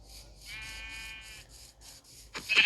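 Sheep bleating in the Minecraft video game, a wavering nasal bleat held for about a second, then a few softer repeated calls, ending with a brighter burst of game noise, with no speech.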